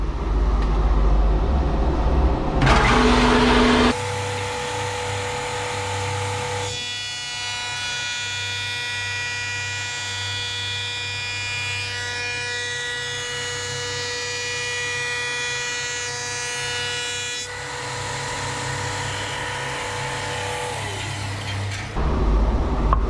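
A wood molder machine starts up and runs with a steady whining mechanical hum, holding an even tone for most of the stretch before a change near the end, loud and close with no speech.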